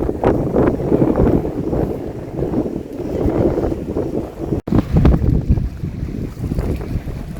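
A boat cruises through the Sundarbans with a constant engine rumble mixed with wind buffeting the microphone and water rushing past the hull, loud and close throughout.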